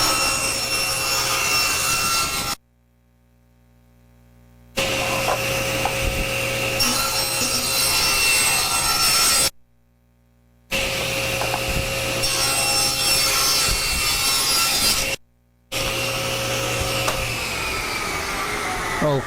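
A power saw cuts wood for a jewelry box in a workshop, running loud and steady in three long passes with abrupt silent gaps between them.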